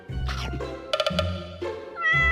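A cartoon cat meows in a comedy animation. The meow is drawn out and voiced and sits between spoken lines, with a few sharp clicks mixed in. It sounds like a voice actor imitating a cat.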